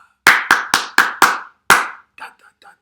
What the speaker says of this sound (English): Never clap this one back.